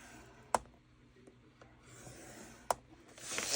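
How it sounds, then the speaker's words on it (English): Paper being scored at half an inch with a scoreboard or ruler for a junk journal envelope: two sharp faint taps, then a soft dry rasping stroke that swells near the end, quiet and alone. "And I'm going to score that at 1/2 inch."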